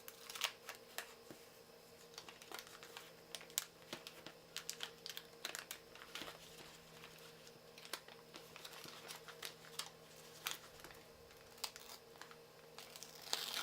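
A 1978 Topps Jaws 2 photo card wax pack is torn and peeled open up close, with quiet crinkling, ripping and papery clicks scattered steadily throughout.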